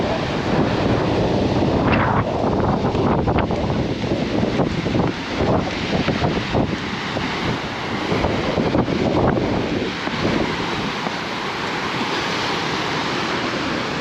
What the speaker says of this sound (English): Ocean's looking a little rough still.